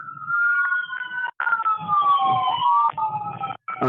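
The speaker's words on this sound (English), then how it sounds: "Excuse the sirens. I got an ambulance coming through again." A wailing ambulance siren sweeps up and down in pitch, loud and close, with brief dropouts and faint talk underneath.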